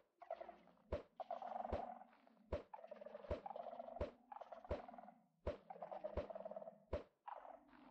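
Minecraft chickens cluck over and over in a steady run, with sharp clicks cutting in at regular intervals and no one talking.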